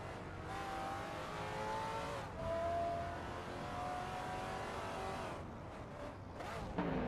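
Supercars in a racing video game roar off the line at the Brands Hatch race start, engines revving and rising in pitch as they accelerate together, loud and continuous, with a brief tyre squeal near the end.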